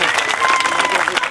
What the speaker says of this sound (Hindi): साहब कांशी राम जी के ऊपर जोरदार ताली बजाकर उनको नमन करेंगे